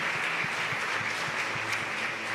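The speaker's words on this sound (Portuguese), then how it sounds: "Vamos aplaudir esse pessoal que ficou de pé." A church congregation applauds people standing during a Portuguese-language service, steady dense clapping filling the room at a constant level.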